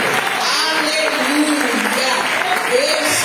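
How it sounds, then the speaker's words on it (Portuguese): A church congregation claps and applauds continuously at a worship service, a dense, fairly loud wash of hands mixed with voices throughout. "Aplauda Jesus"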